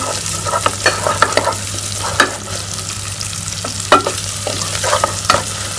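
Utensil stirring and scraping garlic-ginger paste through a sizzling pan of frying onions, with a steady fry hiss and scattered clacks, close and fairly loud.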